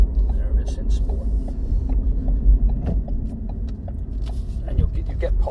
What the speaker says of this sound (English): It's just got this huge like roar, rumble to it, like this low down growl